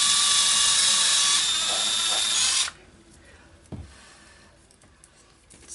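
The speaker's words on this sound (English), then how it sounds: "So I just drill a little hole in it." A small power drill whines loudly and steadily for about three seconds, then cuts off abruptly, leaving quiet with a single soft clunk.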